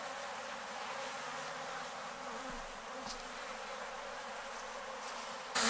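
Honeybees buzz steadily in an open hive during an inspection of a ten-frame colony full of brood with no stores, a dense, continuous droning swarm close by with no talk.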